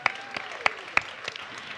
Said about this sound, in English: Yeah, applause, Betty Heid.